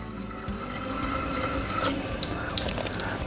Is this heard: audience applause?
no